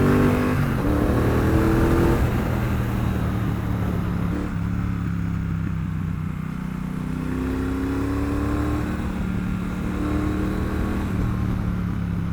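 A Triumph Bonneville Bobber 1200 motorcycle is ridden on a wet road, its engine droning steadily with rising and falling pitch as the rider shifts, under continuous wind rush close to the mic.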